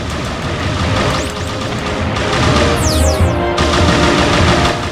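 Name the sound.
hyper laser shots in Star Fox Adventures video game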